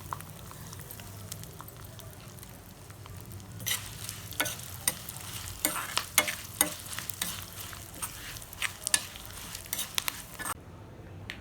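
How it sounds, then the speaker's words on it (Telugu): Asafoetida tempering for black gram chutney frying in hot oil, a steady soft sizzle with repeated sharp crackles and pops from stirring, close and alone without talk. "తాలింపు అయితే వేగిపోయినాయండి"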